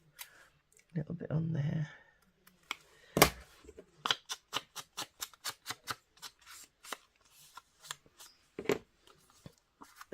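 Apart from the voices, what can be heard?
scissors snipping paper for a papercraft folio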